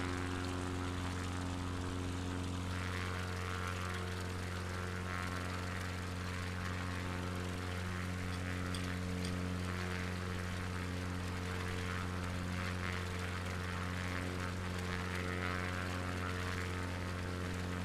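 Propeller airplane engine in Microsoft Flight Simulator 2020, a constant droning hum with strong steady tones, even and unbroken throughout, no talking.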